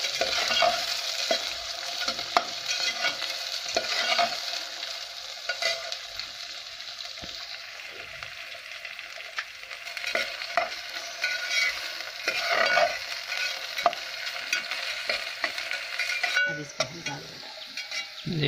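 Okra sizzles steadily as it fries in a pan, with a continuous hiss broken by frequent stirring scrapes and clinks throughout.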